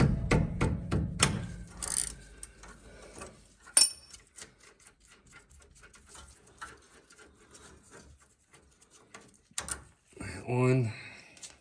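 Truck rear brake caliper bolts are worked loose with hand tools, giving metallic clanks, ratchet clicks and scrapes, close and irregular, with a louder rattle near the end.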